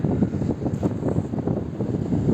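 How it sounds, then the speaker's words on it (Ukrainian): Gusty wind by a river buffets the microphone in a continuous low rumble, rising and falling in uneven bursts. "вітер дує, але теплий"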